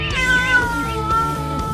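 A cat meows loudly and close up, two drawn-out wailing calls from a sound effects library tape of animals and bees.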